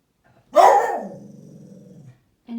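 A dog gives one sharp, loud bark that trails into a low rumbling growl lasting over a second, then a short second vocal onset begins just as the sound cuts off.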